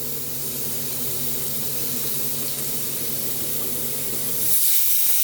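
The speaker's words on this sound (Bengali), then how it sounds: "কড়াইতে পেঁয়াজগুলো দিয়ে দিলাম, দেখেন তেল দিয়ে দিচ্ছি।" Onions in oil sizzle in a kadai with a steady, loud spitting hiss that holds throughout and swells briefly near the end.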